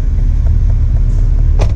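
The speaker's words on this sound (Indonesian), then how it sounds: "sambil kita nyalain mesinnya" A 2013 Toyota Avanza Veloz 1.5 manual engine turns over and runs, a loud, close, steady low rumble throughout, with a brief sharper rattle near the end.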